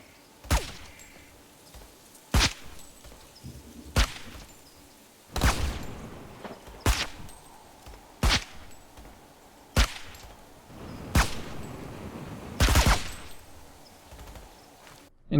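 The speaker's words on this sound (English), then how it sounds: "here's a side-by-side of the MSWR using a suppressor and without" Rifle shots from the MSWR in a video game, fired with a suppressor and without for comparison: about ten sharp single reports spaced one to two seconds apart, some muffled and some louder and crisper, over quiet background.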